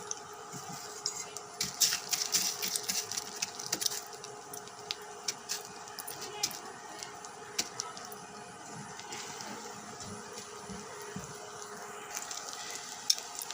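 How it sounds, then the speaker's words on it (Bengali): Potato chops coated in crushed noodles frying in oil in a wok: a faint, steady sizzle with scattered crackles and small taps, fairly quiet and alone with no talk. "চপগুলো আমি তেলে ছেড়ে দিয়েছি, এখন আমি ভেজে নেব।"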